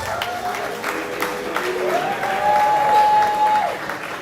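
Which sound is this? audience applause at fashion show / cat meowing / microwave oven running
audience applause at fashion show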